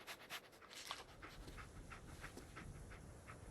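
Panting and sniffing from the dog companion in the video game Fallout 4, a quick run of short breathy puffs repeating steadily over a low background rumble, close and moderately quiet.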